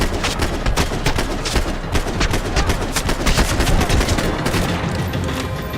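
Dense, continuous gunfire from the Max Payne 3 video game, rapid overlapping shots forming a loud, steady fusillade with no talk throughout.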